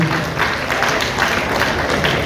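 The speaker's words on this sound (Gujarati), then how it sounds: "જોરદાર તાળીનો ગડગડાટ એકવાર કરજો" An audience at a charity show claps together in steady, dense applause that fills the whole moment without any break.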